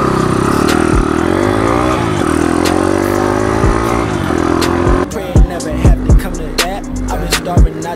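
An Icebear CT70 clone minibike with a swapped Piranha 140 engine runs loud and close, its revving pitch rising and falling before the engine drops lower and choppier near the end.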